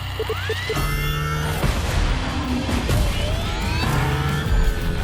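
An Audi S1 E2 Quattro rally car, driven by two Formula E electric motors, burns its tires in The Crew Motorfest video game, loud sustained tire squeal and rising whine, with skids and a brief knock among the screeching.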